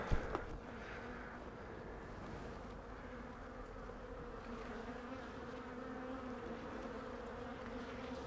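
Honeybees from a weak hive buzz steadily and close during a winter inspection, with a continuous droning hum that holds throughout after a brief handling knock at the start.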